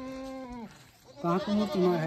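Goats bleat close by, one wavering call followed by a second louder, choppy bleat, with people talking nearby.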